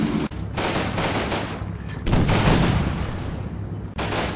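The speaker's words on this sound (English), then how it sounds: "A hidden anti-tank gun is fired upon the Shermans." Bursts of gunfire from a hidden anti-tank gun shooting at Sherman tanks in the Combat Mission Normandy war game: loud, close blasts with rolling echoes and short gaps, heard alone.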